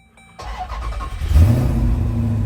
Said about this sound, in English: Let's go ahead and fire this baby up and see what she sounds like.